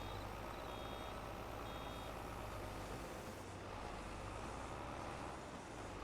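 Reversing beeps from a vehicle in Farming Simulator 22 on the Silverrun Forest map chirp intermittently above a steady, loud engine rumble and road noise, with no talking.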